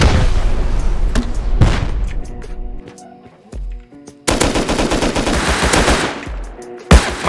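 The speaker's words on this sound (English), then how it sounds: "They're shooting out there." Rapid bursts of automatic gunfire from the video game Rust during a base raid, loud and close, with dense rattling volleys broken by a short lull and a few sharp single shots.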